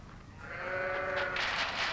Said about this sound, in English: And here are the sheep.